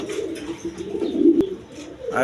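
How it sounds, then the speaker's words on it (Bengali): A pair of pigeons, a German Beauty and a Lotan, give a steady low cooing drone close by over a noisy background, with a sharp click near the end. "এখানে এক পেয়ার কবুতর আছে দেখেন নটটা হইলে বিউটি কবুতর জার্মান বিউটি"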